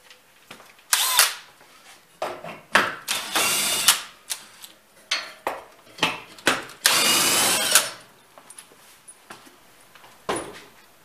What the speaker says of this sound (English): we're going to take a drill and we're going to take those two wood screws out